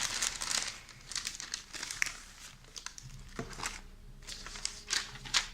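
Very thin, fragile printed newspaper handouts from a tabletop investigation game crinkle and rustle up close in irregular bursts of paper handling, with no talking.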